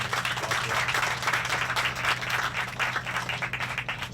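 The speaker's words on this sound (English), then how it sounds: "So let's give her a nice round of applause." A crowd at a sheriff's office safety center groundbreaking ceremony breaks into steady applause for a state senator, a dense sustained clatter of many hands with a low hum underneath.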